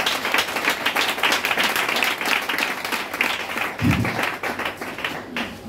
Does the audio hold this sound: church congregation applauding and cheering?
yes